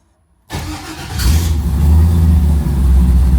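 A car engine fitted with Dakota Digital gauges showing a check engine light cranks and catches, then settles into a steady, loud idle close by.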